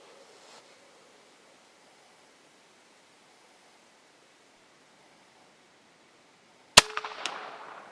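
A single sharp, loud shot from a modified Hatsan BT65 air rifle cracks out near the end after several seconds of quiet outdoor hiss, followed by a short metallic ring and rattle as it fades.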